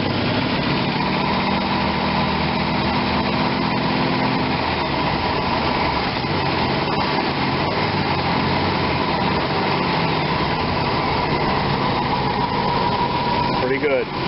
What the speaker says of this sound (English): I'm pretty happy that it's running really smooth like this